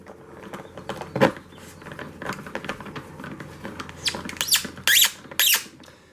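A long screw being driven into the plastic body of an FMS 80mm Dassault Rafale EDF model jet, squeaking in short bursts that grow louder and sharper toward the end, close up.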